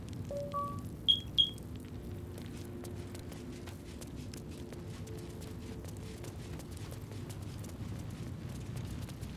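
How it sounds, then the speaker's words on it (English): A home smoke alarm lets out two quick, high electronic beeps near the start, sharp and fairly loud, followed by a steady low background hum. "did you hear that? That was my fire alarm."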